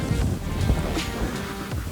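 Water poured from a container into a toilet bowl gives a brief, soft, steady rush and splash, quiet and close, with no voices.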